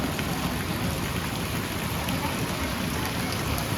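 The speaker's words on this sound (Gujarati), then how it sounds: "વરસાદ હજી એટલો જ ચાલુ છે." Heavy monsoon rain pours steadily in Surat during flooding, a dense continuous hiss of drops hitting surfaces, loud and unbroken with no voices.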